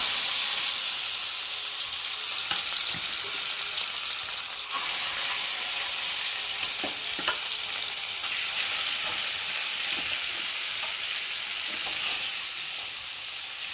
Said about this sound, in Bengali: আর আমি এখন একে একে মাছগুলো দিয়ে ভেজে নেব